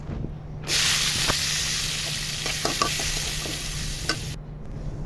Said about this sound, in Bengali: তেলটা গরম হলে মাছগুলোকে দিয়ে দিব।